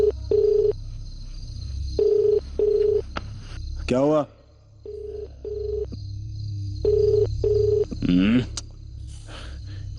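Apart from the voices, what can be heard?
phone dialing and ringing, no answer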